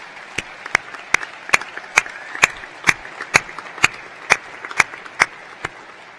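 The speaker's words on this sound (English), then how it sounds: "So please, a big round of applause from the students to their mums, dads, friends and family." Sharp, evenly spaced single claps ring out about twice per second at a university graduation ceremony, fairly near and isolated against a quiet hall, more like a slow rhythmic clap than full applause.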